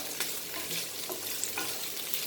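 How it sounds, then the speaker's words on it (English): Potatoes and cumin frying in a pan sizzle with a constant bright hiss, with a few soft stirring scrapes rising out of it now and then. "Fry nicely so that the cumin and potatoes get nicely together"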